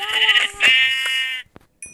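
A sheep in Minecraft bleats loudly and nasally twice in quick succession, followed by a short click and a brief high electronic tone, like a game sound effect.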